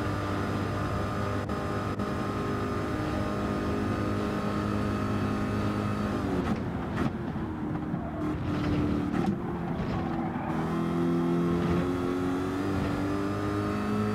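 Super GT race car engine in Gran Turismo 7, a steady loud droning note that shifts pitch midway as the car lifts and gets back on the power, continuous and close.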